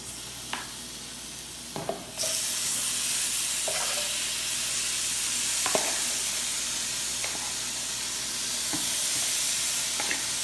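Strips of steak sizzle steadily in a hot frying pan for a steak quesadilla, a loud continuous hiss broken by a few soft scraping stirs, with no talking.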